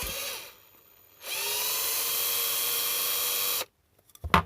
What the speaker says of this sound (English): Let's get this drill into the cordless drill